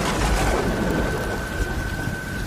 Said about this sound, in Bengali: মেঘের গর্জনে গাছ কেঁপে উঠছে।